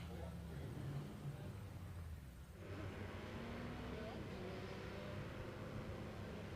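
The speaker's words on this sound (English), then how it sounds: "As away goes the 1975 Ferrari Dino 308 GT4" A 1975 Ferrari Dino 308 GT4 pulls away at a hillclimb, its engine a steady low drone held at moderate distance through the whole stretch, with a brief dip midway before the note resumes.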